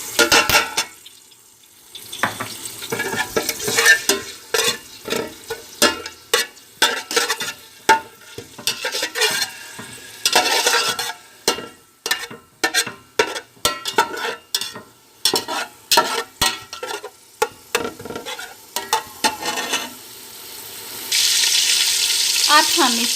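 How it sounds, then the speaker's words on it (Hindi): Ginger garlic paste frying in about a cup of hot oil left from browning onions for student biryani, with sizzling and repeated scraping stirs of a spoon against the pot, loud and close. "अब हम इसमें अदरक लहसुन का पेस्ट डाल देते हैं।"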